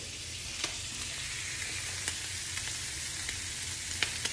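Shrimp stir-frying in a red-hot pan give a steady, close sizzle of popping oil, with faint scrapes of stirring and occasional sharp crackles across the few seconds.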